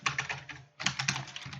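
Router configuration commands typed on a computer keyboard in a networking lesson, a close, rapid run of crisp key clicks with one brief pause midway and no speech.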